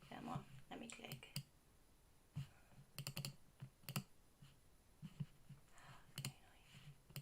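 Sharp mouse clicks while editing text in design software, scattered singly and in quick bursts, quiet and close, with some low background murmur between them.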